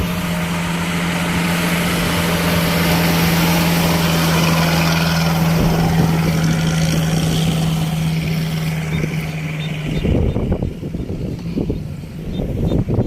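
Kubota DC70 Pro combine harvester on a farm, its engine running loud and steady with a low droning hum for about ten seconds, then turning rougher and more uneven toward the end.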